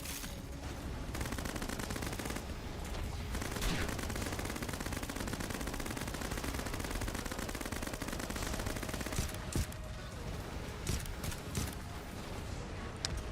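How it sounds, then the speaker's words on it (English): Continuous machine gun fire from the video game Risk of Rain 2 rattles at a fairly low level for over ten seconds, dense and steady with a few sharper hits near the end and faint voice underneath. "Machine gun!"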